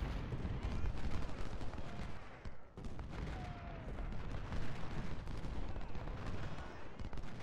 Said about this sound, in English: God damn artillery, stop canistering us